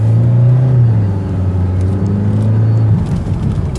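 A 2014 Chevrolet Cruze pulls ahead while driving, its engine giving a steady, loud low drone that climbs slightly in pitch and then shifts near the end, with road and wind noise underneath and no talking.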